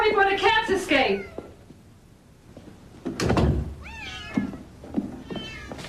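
Several cats meow inside a house, rising, wavering cries following a thump like a door, mixed with a person talking near the start.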